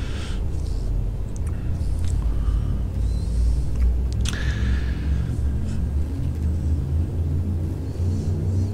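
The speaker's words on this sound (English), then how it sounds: "Frame shift drive charging." Frame shift drive charging aboard a spaceship in Elite: Dangerous, a steady loud low rumble with a rising whine and brief swelling tones building over several seconds.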